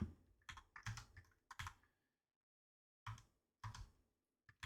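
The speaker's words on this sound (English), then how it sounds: "let's go ahead and type in function platform" Close, quiet computer keyboard typing as code is entered, clustered bursts of crisp key clicks separated by a long silent pause, then a few more isolated taps.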